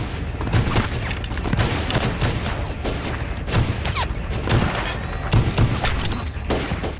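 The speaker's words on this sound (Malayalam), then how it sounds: "തോക്കേന്തി വന്ന ജെയിംസ് റിക്ടർഫീൽഡിനും ആളുകൾക്കുമെതിരെ വെടിയുതിർക്കാൻ ആരംഭിച്ചു." Rapid bursts of gunfire crackle continuously over a dense, booming action film soundtrack, loud and close.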